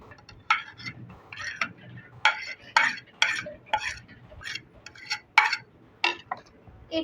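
Spoon stirring a chicken, chili and cheddar cheese pakora mixture in a bowl, a steady series of scraping and clinking strokes against the dish, close up, with no talking.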